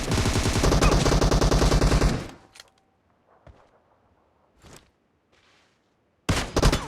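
PUBG gunfire from a Kar98k bolt-action rifle and an M762 assault rifle: a loud, dense automatic burst for about two seconds, then scattered isolated shots, and another loud burst at the very end.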